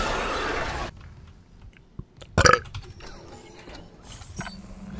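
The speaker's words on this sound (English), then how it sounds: "Did you like my burp?" A short, loud burp erupts midway, flanked by quiet clicks and faint mechanical rattles from a Dead Space (2023) gameplay session.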